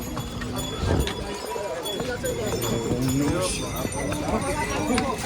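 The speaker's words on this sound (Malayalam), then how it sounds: "ആ കുതിര വന്ന് ബ്ലോക്കായി കളഞ്ഞ" Horses clop along a snowy, rainy mountain trek trail on the way to Kedarnath, their hoofbeats close and steady under continuous talking.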